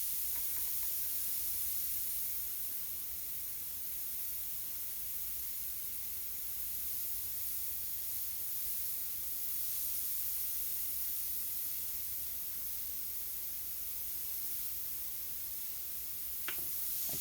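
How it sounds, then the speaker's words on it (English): An aerosol can of spray paint releasing a long, steady hiss that runs almost unbroken, close and even, with no talk. "I was spraying up on the top."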